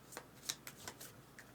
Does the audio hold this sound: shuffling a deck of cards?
yes